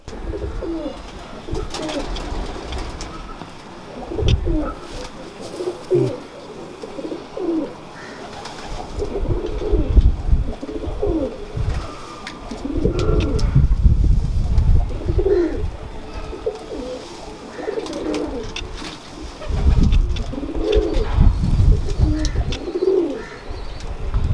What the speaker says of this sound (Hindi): यानी कि अब ये ब्रीडर कबूतर है आपका?